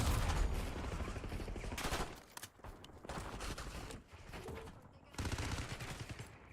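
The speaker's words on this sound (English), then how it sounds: "Enemy sniper shooting." Sniper shots and bursts of gunfire crack out in a Call of Duty hardpoint match, coming in loud repeated volleys broken by short quieter gaps, with faint voices now and then.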